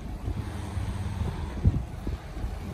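Steady low tailwind rumble buffeting the microphone, with a brief thump partway through, over a constant background drone from a boat on the water approaching a lock.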